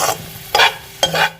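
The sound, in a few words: stirring chicken chilli with onions in a hot pan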